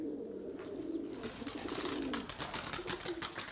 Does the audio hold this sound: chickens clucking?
no